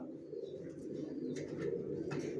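Racer pigeons in a loft, with soft steady low cooing and shuffling, a few brief fluttering bursts of wingbeats near the end, close and moderately quiet.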